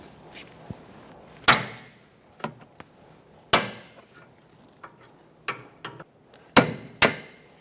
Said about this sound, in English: we're going to use a 24mm wrench, and we're going to break it free.